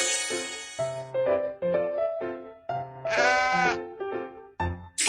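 A goat bleats repeatedly, loud and near, with long wavering cries broken by short pauses.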